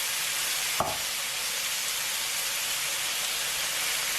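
Pork belly coated in gochujang sauce sizzles and hisses steadily on a grill over low heat, a constant close frying crackle with one brief clack near the start.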